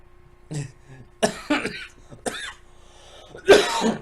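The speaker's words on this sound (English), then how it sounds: "That was probably one of the worst coughs I've had all day" A few harsh coughs in short bursts, the last one loudest and rough, close to the microphone with brief pauses between.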